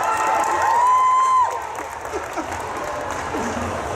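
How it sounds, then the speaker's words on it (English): A Comic Con Brussels crowd applauds Emilie de Raven steadily, a shrill whistle or whoop riding over the clapping at first before cheers settle into even applause. "And now you applaud."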